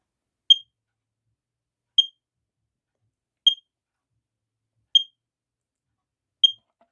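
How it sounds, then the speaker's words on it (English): An Amway Amgard (Statitrol) E-8444 smoke detector on low battery test gives five short, sharp high chirps, evenly spaced about a second and a half apart in otherwise total silence. "So it just basically tests the low battery signal function"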